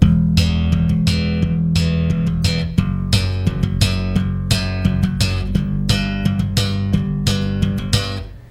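Slap bass guitar in a thumb-and-pop pattern, one thumb, one pop, two thumbs, one pop, with booming low thumb notes and bright, snapping pops in a steady repeating groove that fades at the end.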